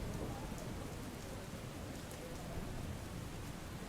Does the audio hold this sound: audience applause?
no